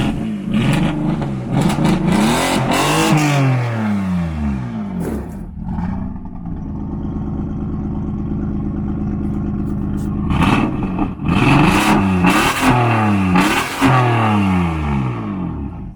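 A loud, raw engine of a BMW M3 with no exhaust fitted, revving hard again and again, pitch sweeping up and down, settling into a rough idle midway before more aggressive revs.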